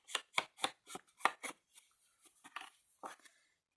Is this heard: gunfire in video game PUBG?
no